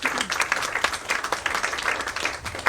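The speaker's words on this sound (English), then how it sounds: "big round of applause" A crowd at a silver jubilee event applauds steadily for a speaker's introduction, dense clapping filling the whole stretch at an even, moderately loud level with no talking over it.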